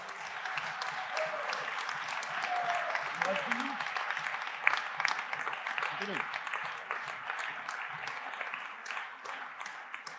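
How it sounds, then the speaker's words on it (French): Banquet audience applauds the newspaper staff at a 120th-anniversary celebration, a steady wash of clapping from a large hall crowd, moderately loud, with faint voices mixed in throughout. "Je vous demande une nouvelle fois de les applaudir."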